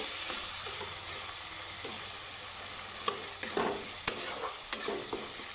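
Wet spice paste of green chilli, turmeric, salt and a splash of water for rui fish with panch phoron frying quietly in a pan, with a low sizzle and repeated scraping stirs and knocks of a spatula.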